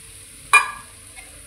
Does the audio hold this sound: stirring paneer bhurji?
yes